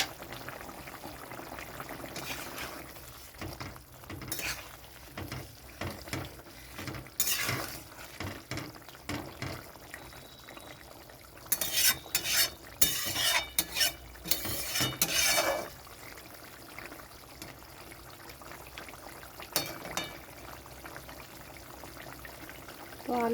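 A pot of papaya and potato curry simmers while a spoon stirs and scrapes against the metal in scattered bursts, with soft bubbling and occasional clinks, mostly quiet and close.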